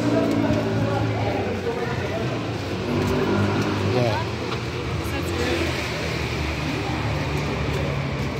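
A bus engine rumbles and revs at a stop in Badalona, steady and fairly close, with people talking over it throughout.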